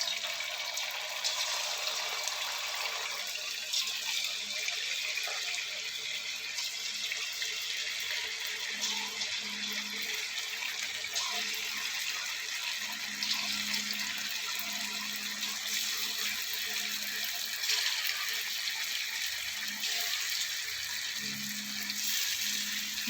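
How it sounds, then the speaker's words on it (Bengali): Bottle gourd fritter batter frying in hot oil in a kadai, a steady broadband crackle and hiss of bubbling oil continuing for the whole stretch. "কড়ার তেল গরম হয়ে গেছে, এরপর ব্যাটারগুলো ফুলুরির আকারে ছেড়ে দেব।"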